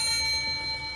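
A bright ringing bell used as a sound effect on a talk show, struck once and left to sustain with steady high overtones slowly decaying, loud and close with no talk.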